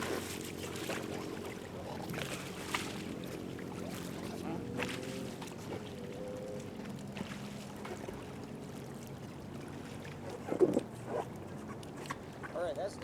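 Paddles dipping and pulling through water beside an inflatable R1 raft: soft, irregular splashes and sloshing under people talking.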